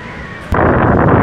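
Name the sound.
strong wind blowing into the microphone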